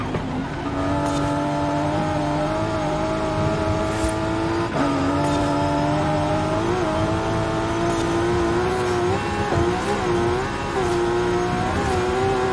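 A racing car engine in the video game Forza Horizon 5 roars steadily, holding a high, buzzing note with brief pitch dips and climbs at gear changes, over a constant wash of road noise.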